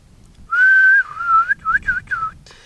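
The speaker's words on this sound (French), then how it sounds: "Nous, c'est siffler dans la maison." Someone whistles a short tune, a long held note followed by several quick, bending notes, clear against a quiet room.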